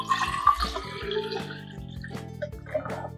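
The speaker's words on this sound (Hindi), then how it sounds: "अब इसे मैं पहले वाटर डाल के फिल कर देता" Water pours and trickles into a plastic sipper bottle in a home kitchen, with a few drips and splashes at moderate level over steady tonal background music.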